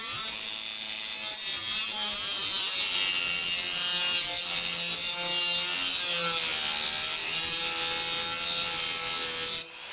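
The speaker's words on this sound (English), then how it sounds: "the Dremel is a rotary tool and it tries to roll to one side" A Dremel rotary tool carves a chamfer into a turned, spiral-pierced maple tea light or vase, a continuous close grinding and rasping whine that shifts slightly in pitch as it works, with no voices.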